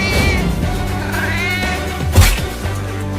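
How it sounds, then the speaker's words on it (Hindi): A small cat meows loudly and close, with a long drawn-out cry that bends in pitch over a constant background noise. "लेकिन ये बिल्ली तुम्हें क्यों काट रही है"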